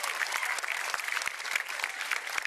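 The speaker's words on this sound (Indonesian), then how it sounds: "Kita beri tepuk tangannya meriah untuk Inyoman Adiferi." A stand-up comedy audience applauding a comedian at a live show, dense steady clapping from many hands throughout, moderately loud with a faint crowd murmur beneath.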